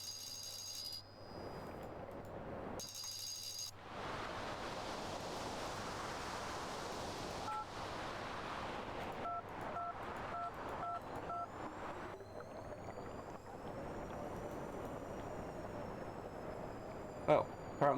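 A phone ringing inside the Penance RPG game, an odd electronic tone with steady dial-like beeps and a rising whine, heard over constant noisy ambience with a few brief breaks.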